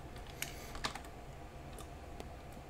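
Fingers type on a computer keyboard, quick soft clicks in a brief uneven burst, heard close and quiet with no one speaking.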